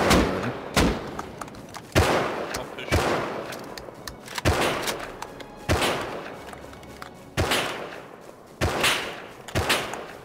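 Gunfire in the survival video game Rust: loud, sharp bangs with short echoing tails, around a dozen shots in irregular single shots and quick pairs, with no clear talk over them.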